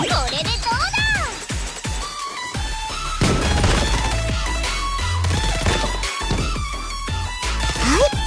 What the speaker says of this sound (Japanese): じゃーん、まつきちゃん特製花火